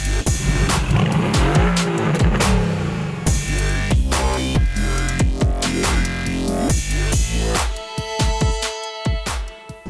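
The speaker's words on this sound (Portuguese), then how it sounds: "Agora vamos levar você para dar uma volta com a gente nos esportivos da AMG." An AMG sports car races around a racetrack, its engine roaring loudly up and down through the revs, with tires squealing through the corners.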